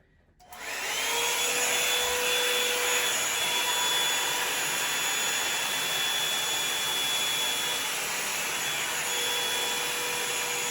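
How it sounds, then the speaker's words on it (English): A Revlon One Step hair dryer switches on and blows on its high setting, a loud, steady roaring whoosh with a thin whine that holds for about ten seconds, alone without talk. "we are going to go in with the Revlon dryer. And like I said, I just start off with high."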